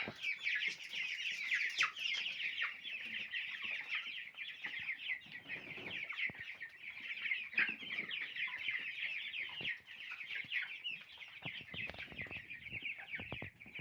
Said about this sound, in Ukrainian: курчатка були маленькі, стали вони вже далеко не маленькі